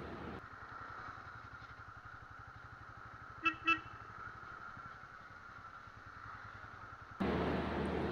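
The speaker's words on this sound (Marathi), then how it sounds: "मस्त छानपैकी आपल्या फॅमिलीबरोबर आपण बुलेटवर राईड करतो आहे." A Bullet motorcycle ridden at night with family aboard gives a faint, steady low thumping engine beat, broken midway by two short horn toots, before a louder burst near the end.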